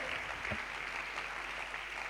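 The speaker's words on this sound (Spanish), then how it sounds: "Dale un aplauso al Señor" Church congregation clapping for the Lord during a Spanish-language sermon, a steady, dense wash of hands that fills the short moment without a break.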